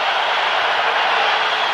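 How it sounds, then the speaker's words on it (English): A packed football stadium crowd at an NFL playoff game roars in a dense, steady wash of noise. It is loud and unbroken for the whole moment, with no single voice standing out. "Crowd roaring."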